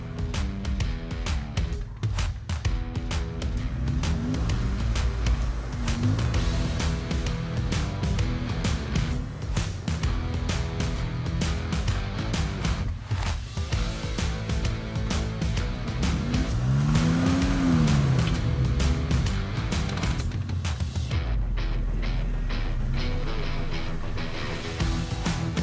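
A vehicle pulls a stuck rental car out of soft snow off-road using a Yankum kinetic recovery rope, with a steady loud engine roar, revving and spinning tires that rise and fall through repeated pulls.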